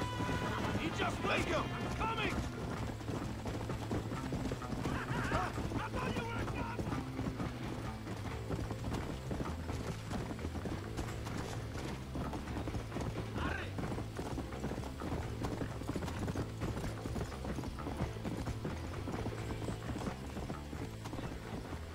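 Horse hooves clip-clopping at a brisk pace in the Red Dead Redemption video game, a steady dense patter over game music and ambience, with someone talking at times.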